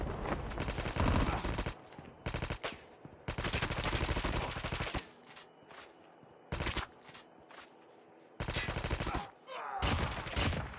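Gunfire in Call of Duty Mobile, heavy bursts of automatic fire in several loud clusters separated by short quieter gaps, some shots sounding nearer and others farther off.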